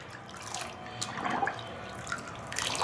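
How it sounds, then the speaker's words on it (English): Steel cylinder from a Ruger Old Army .45 revolver dropped into a bucket of water for cleaning, giving a few close splashes and drips over a low background. "just drop that right in the bucket of water there."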